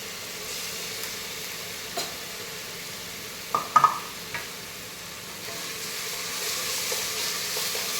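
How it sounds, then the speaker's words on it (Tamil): Coriander leaves and ginger garlic paste sautéing in a pan for mandi biryani, a low steady sizzle with a few brief stirring knocks and clinks near the middle, no voices. "கொத்தமல்லி போட்டுக்கலாம். அதுவும் நல்லா வதங்கணும். இஞ்சி பூண்டு பேஸ்ட் போட்டுக்கலாம்."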